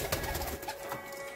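Lal dum (red-tailed) pigeons cooing in a loft, a steady close chorus of overlapping low coos with a faint higher bird chirp above, no talking.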